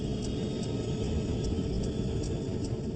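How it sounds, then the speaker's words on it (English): Air Florida airliner engines spool up for takeoff on a freezing-cold day, a loud, steady, low rumble that holds without a break and has no voices over it. "The engines spool up quickly."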